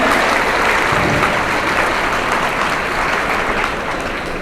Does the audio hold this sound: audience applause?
yes